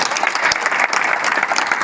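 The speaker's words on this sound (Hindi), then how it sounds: "तो एक बार इनके लिए ताली होनी चाहिए" Applause from an audience at a National Safety Week award event, a brief loud burst of dense clapping close by.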